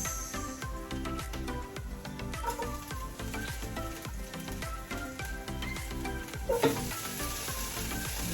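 Garlic, ginger and onion fry in a pan with a steady, close sizzle, crackling on throughout with faint stirring clatter and no voices.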